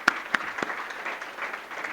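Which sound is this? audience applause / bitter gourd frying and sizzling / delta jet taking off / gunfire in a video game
audience applause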